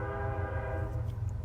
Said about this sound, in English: The sound of train is so cozy.